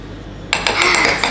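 A utensil stirring homemade M&M candy coating in a bowl, a short burst of close scraping and clinking against the dish that starts abruptly after a quiet moment.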